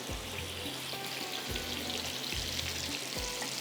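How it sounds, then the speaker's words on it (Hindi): Kabab nuggets fry in hot oil, giving a steady crackling sizzle with recurring low bubbling pulses, close and alone without any talk. "नगेट्स हमारे यहाँ पे फ्राई हो रहे हैं।"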